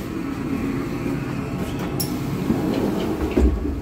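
Passenger wagons of the IC Lubuszanin train roll past at Zbąszynek, with continuous close rumbling and rhythmic wheel clicks over rail joints.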